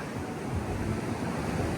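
Sea waves wash on the shore in a continuous, low rushing roar mixed with wind buffeting the microphone, steady and without talk.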